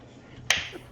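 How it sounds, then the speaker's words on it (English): A single sharp clap cracks once, faint and brief, against quiet room tone with no voices over it. "You had one singular clap from that."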